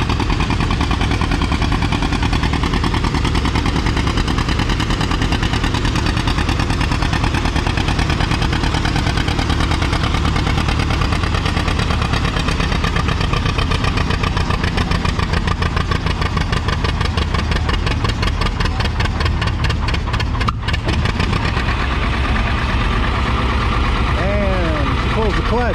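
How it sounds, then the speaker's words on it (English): A vintage John Deere 80 tractor hauling a 10,000 pound sled at a pulling competition, its engine roaring loud and continuous throughout, with a rapid chugging rhythm near the end and a voice speaking over it. "we got a John Deere 80 pulling"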